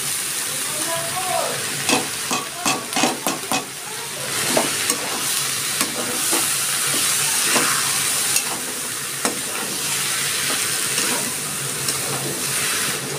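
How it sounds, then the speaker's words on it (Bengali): Boiled matar (pea) lentils hit a hot pan and sizzle loudly, with a burst of quick scraping stir strokes early on, then a continuous close fry hiss and further stirring, no talk. "এবার আমি দিয়ে দিচ্ছি ডাল,"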